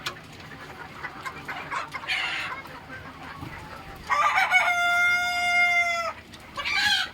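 Chickens on a poultry farm, around seventy to eighty birds in a shed, cluck and murmur steadily nearby, then a rooster lets out a loud, drawn-out crow, followed by more clucking.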